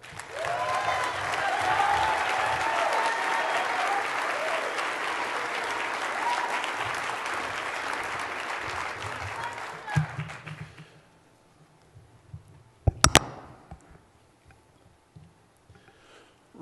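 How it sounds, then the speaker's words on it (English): A conference crowd applauds steadily for about ten seconds, then the clapping fades out, leaving a few scattered sounds and a sharp knock. "Please give a big round of applause to Joe Torres."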